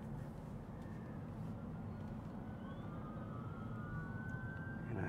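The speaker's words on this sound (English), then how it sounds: "And I hear ambulances." Ambulance sirens wail in the distance while a car drives on a highway, the rising and falling tones faint and thin over a steady low road rumble that grows slightly louder toward the end.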